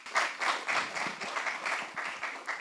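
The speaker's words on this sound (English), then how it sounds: "A big round of applause there for what we saw" Applause from an audience at a Salman Khan press conference for Prem Ratan Dhan Payo, a dense spread of many hands clapping steadily and fairly close for a couple of seconds, with no talk over it.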